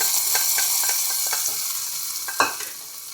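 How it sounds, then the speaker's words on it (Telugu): Hot tempering poured into a bowl of chutney gives a steady, close sizzling hiss, with a sharper crackling burst near the end and light utensil clinks, and no voices. "ఇంకా చట్నీకి పోపు కూడా రెడీ అయిపోయిందండి ఇంకా పోపు కూడా వేసేసుకుంటున్నా"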